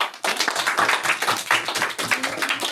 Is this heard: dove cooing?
no